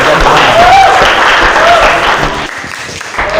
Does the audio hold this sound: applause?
yes